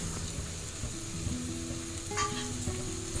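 Onion, garlic, ginger and coriander powder frying in a pan for a crab roast, a soft steady sizzle with occasional stirring scrapes and faint background tones.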